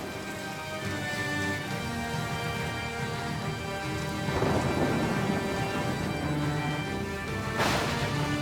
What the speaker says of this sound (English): it began to rain. And it rained. And it rained.